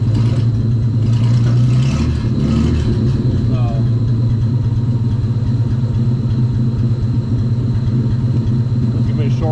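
A 1938 Dodge car engine with a poorly flowing carburetor runs loudly and close, a rough, uneven low rumble with a brief rev near the start, then a steady idle throughout.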